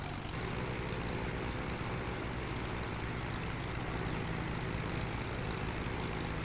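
Airplane engine in flight, a continuous dense broadband drone holding steady at constant loudness throughout, heard as if from inside the aircraft, with no voices.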